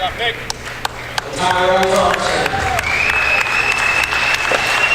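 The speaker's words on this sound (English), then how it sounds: "he gets his ovation from this crowd" At a men's college basketball game, Tabor versus York, the crowd rises into loud, sustained applause for a departing senior, with cheers on top and an announcer talking over it.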